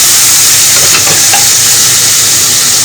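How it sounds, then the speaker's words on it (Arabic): Butter or ghee melting with oil in a pan gives a loud, steady sizzling hiss that runs unbroken and close throughout. "ومعاه معلقتين زيت كبار، اول ما السمنه تسيح معانا او الزبده تسيح معانا"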